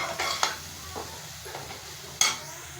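Vegetables for a vegetable pulao sizzling and frying in a pan while being stirred, with a few sharper scrapes and clinks of the spoon against the pan.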